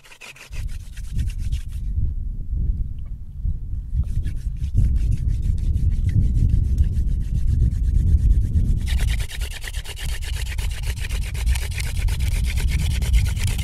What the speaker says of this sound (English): Now the problem is that I've already drilled all the way through the hearthboard.